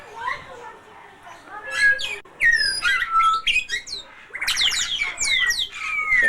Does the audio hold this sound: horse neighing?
no